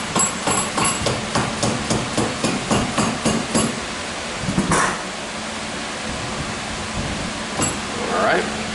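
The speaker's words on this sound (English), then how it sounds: "hammer that on." Sharp metallic hammer blows strike in a quick, steady rhythm, about a dozen in a row, driving a greased part onto a rear axle, then stop, leaving a low hum with a few scattered knocks.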